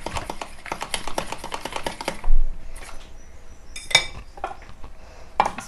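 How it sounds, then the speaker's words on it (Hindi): Utensils scoop egg batter for French toast out of a bowl, producing a quick run of light metallic clinks and scrapes, then a pause and a few sharper isolated clinks. No one talks. "तो इस बॉल से मैं अब इस बैटर को निकाल लूँगी।"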